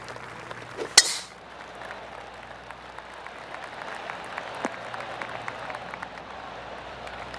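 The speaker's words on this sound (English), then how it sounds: "Oh, golf clap." A sharp click, then light, scattered golf-crowd applause from a small gallery in the video game PGA Tour 2K23, soft and polite, pattering on for several seconds.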